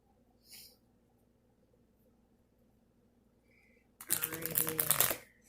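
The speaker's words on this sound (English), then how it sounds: "let's start shuffling the cards." A deck of cards is shuffled once, a short rustling riffle burst near the end after a long stretch of quiet room tone.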